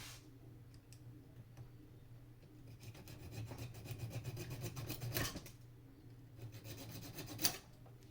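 Small blade or saw cutting into the edge of a bakelite prayer bead, quiet close rasping and rubbing strokes in uneven bursts with a couple of sharp scraping peaks, no talking.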